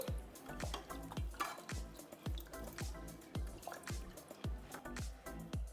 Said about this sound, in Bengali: জলে দিয়ে সমস্ত টমেটো আমি ধুয়ে নেব